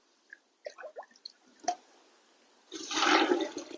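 Three litres of water poured into a mix for homemade organic vegetable fertilizer: a burst of liquid gushing and splashing near the end, after a few faint clinks and taps.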